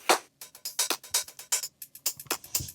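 A percussion top loop from a sample pack, with crisp, bright hits in a steady syncopated groove, clicks and shaker-like ticks repeating close and dry with no voices.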